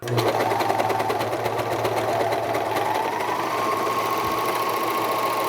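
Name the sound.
serger sewing through cloth mask layers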